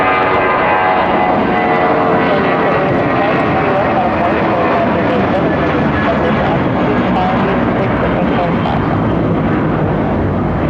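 An airliner takes off from runway 3 left at Detroit Metro Airport, its engine roar a steady, loud, broadband rumble that holds throughout with no break.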